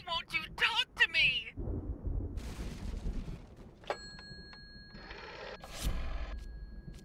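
An old telephone rings in the horror game Layers of Fear, with bursts of bright ringing near the start under game ambience, followed by rumbling, clattering and tonal game sounds.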